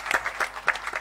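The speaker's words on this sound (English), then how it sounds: "Please let's give them a round of applause again." Audience applause for panelists at a breast cancer awareness symposium: a short, fairly quiet burst of scattered individual claps from a modest crowd.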